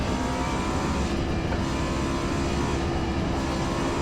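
A race car engine in Forza Motorsport, a loud, continuous roar held at full throttle with no break.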